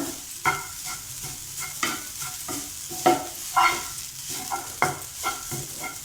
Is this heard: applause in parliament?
no